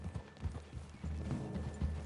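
Horses in a video game walking through a forest clearing, hooves clip-clopping in a steady uneven rhythm, close and moderately loud over quiet outdoor ambience.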